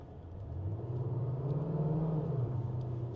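Steady low engine rumble from a Hyundai Tucson or KGM Actyon switched into race mode, the droning tone swelling slightly louder and holding, heard alone with no talk.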